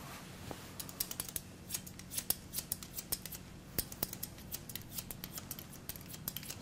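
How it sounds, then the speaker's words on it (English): Steel hair-cutting scissors snip through hair in a scissor-over-comb fade, a long run of crisp, close, quiet metallic clicks in an irregular quick rhythm, with no voices. "we keep cutting until we run out of hair"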